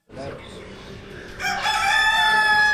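A rooster in a Moroccan village crows loudly and close, its long drawn-out call rising over clucking chickens and outdoor background noise.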